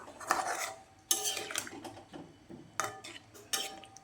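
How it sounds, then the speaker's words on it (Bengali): A spoon stirs a vegetarian potato curry (aloo dum) in a metal pot, sounding as repeated scraping clinks and knocks in uneven bursts, close and fairly quiet. "ভালো করে আবারও নাড়িয়ে নেব"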